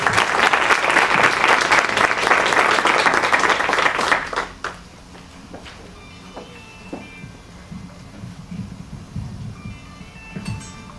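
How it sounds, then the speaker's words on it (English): An audience bursts into loud, dense applause for about four seconds and then cuts off sharply. A few scattered claps and faint room noise follow. "let's give her a round of applause"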